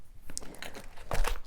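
A light, compact reusable fabric shopping bag from Free People gets handled and scrunched, giving soft crinkling and rustling close up that swells toward the end.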